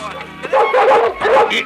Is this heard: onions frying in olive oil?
no